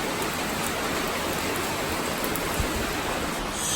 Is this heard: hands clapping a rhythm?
no